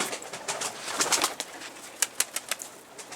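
Çorum tumbler pigeons coo and call close by, a scatter of soft repeated notes with a few brief rustles of wings among them.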